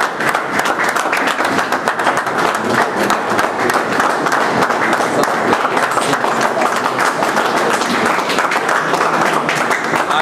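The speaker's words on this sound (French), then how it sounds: "nous allons acclamer pour notre Seigneur" A church congregation applauds and cheers in praise of the Lord, a dense, loud wash of clapping and voices that runs steadily throughout without a break.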